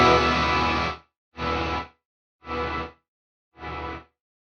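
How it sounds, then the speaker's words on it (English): Four bursts of effected, reverb-heavy guitar through a Fractal unit, each reverb tail cut abruptly by a volume pedal instead of fading out, with silence between them; each burst is shorter than the last. "we are cutting off those reverb tails."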